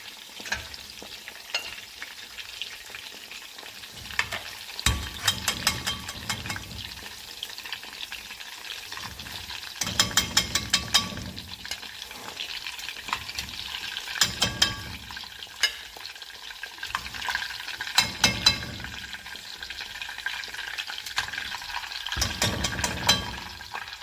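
Meatballs frying in hot oil give a continuous sizzle that swells into louder crackling bursts every few seconds, close and alone with no talk.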